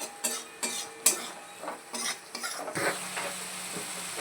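Garlic, green chili and onion sizzle and fry in a pan while a utensil stirs with scraping strokes and a few sharp clinks, close and fairly loud with no talking.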